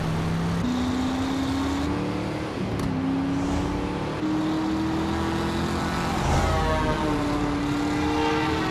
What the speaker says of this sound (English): Assist officers under fire from a goddamn news chopper.